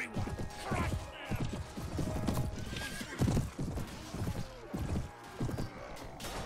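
Horses gallop with rapid clip-clop hoofbeats and repeated neighing in a Mount & Blade Warband (Prophesy of Pendor 3) battle, loud and busy with clashing noise throughout.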